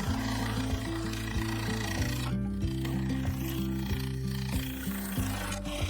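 A carbide cutter scrapes a cherry wood bowl spinning on a lathe, a quiet, steady motor hum with layered low tones under continuous soft rasping.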